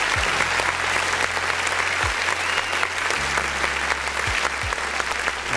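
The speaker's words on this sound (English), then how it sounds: "I'm clapping for no reason." Dense, loud applause runs continuously from start to finish at even intensity, with low droning tones beneath it and no talking over the top.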